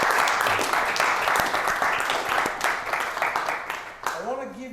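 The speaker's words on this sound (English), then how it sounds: "Can y'all give them a round of applause?" An audience gives a round of applause at a talk on building a marriage, a full dense burst of clapping that thins out toward the end as a voice begins speaking.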